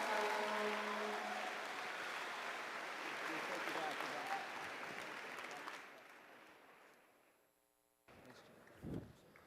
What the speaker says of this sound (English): let's give them a big round of applause and show them that we appreciate what they've done.